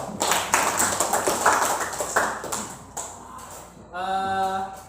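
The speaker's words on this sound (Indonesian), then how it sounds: "Oke, kasih aplaus dulu." Students in a high school class applaud with a brief burst of clapping and tapping, fairly close, before a voice starts talking near the end.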